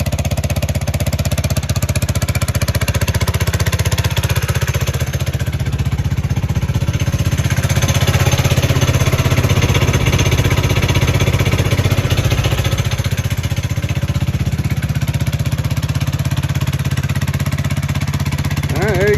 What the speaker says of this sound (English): just let it run.